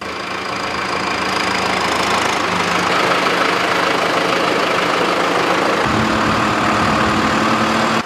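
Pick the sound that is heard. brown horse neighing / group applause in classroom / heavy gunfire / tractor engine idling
tractor engine idling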